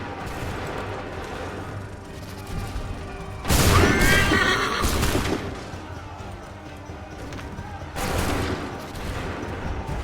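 A musket volley fired on command in Assassin's Creed III, two loud crackling bursts of massed gunfire amid horses neighing and battle noise.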